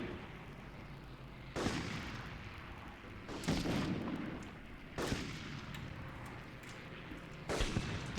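Enemy gunfire in the Medal of Honor shooter game, several loud sharp bursts of shots separated by gaps of lower battle rumble, each one booming close and then fading.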